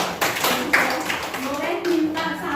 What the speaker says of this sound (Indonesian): coba berdiri tepuk tangan untuk